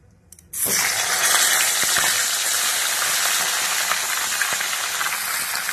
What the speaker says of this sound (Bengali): ওই তেলেতেই ফুলকপিগুলো ভেজে নেব।